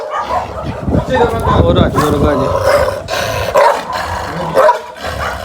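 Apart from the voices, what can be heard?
Gull Terrier dog barking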